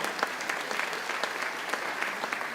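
An audience at an eighth grade graduation ceremony gives a round of applause, steady dense clapping from many hands with no talking.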